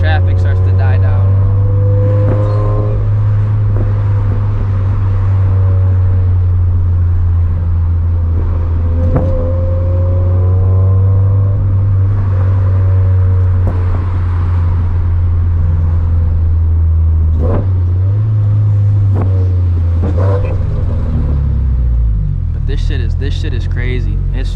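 A Toyota FRS with a Greddy turbo drives in traffic, its engine giving a steady low droning hum with some shifts in pitch as it accelerates, heard from inside the car with someone talking over it.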